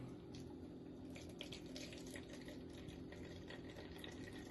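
Faint liquid trickles and splashes steadily as a cabbage mixture is poured through a strainer, a thin continuous pour with small spattering bursts, quiet and close.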